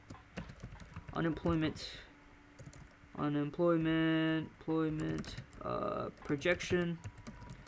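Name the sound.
typing on a computer keyboard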